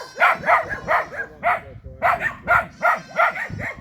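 A dog in Johnson Town, St. Thomas, Jamaica barks repeatedly in a steady rhythm, close and loud, with a short pause midway before the barking resumes.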